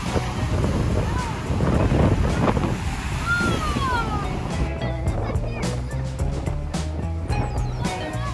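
Choppy sea waves break at a beach while wind buffets the microphone, with a rushing, uneven wash of surf across the whole clip and voices of a family talking over it.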